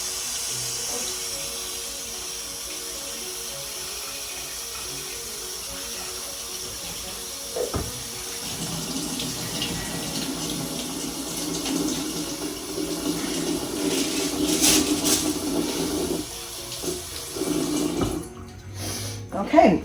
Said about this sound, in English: Let's give that a rinse too.